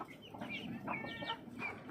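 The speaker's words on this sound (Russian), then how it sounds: "Здесь маленькие курочки попрятались от ветра." Young chickens cluck and peep in a short run of bright, chirpy calls close by, sheltering from a gusty wind that leaves a low rumble underneath.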